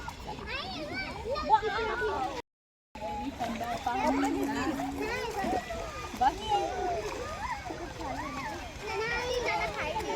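Children's voices chatter and shout continuously at a park, with light splashing of feet in shallow water mixed in beneath the busy, playful noise.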